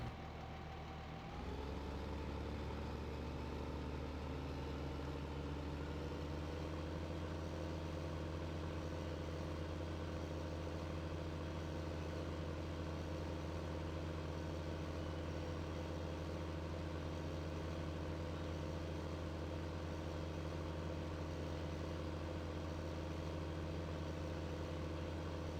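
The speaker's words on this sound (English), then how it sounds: "Let me put the tractor away here a minute." A tractor engine idles in Farming Simulator 15 after a brief start-up at the beginning, then runs as a steady, low, even rumble for the rest of the clip with no talk.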